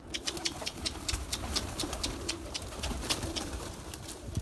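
Red-winged bango pigeons coo in soft, repeated low calls close by, over a busy backdrop of rustling, flapping and scratchy clicks.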